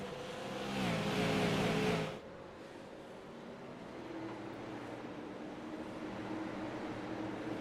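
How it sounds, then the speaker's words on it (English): Super late model race cars run laps at Stafford, a broad steady engine roar that swells loudly near the start and then drops to a lower sustained drone as the pack moves away. "has a long line of race cars sitting right behind him"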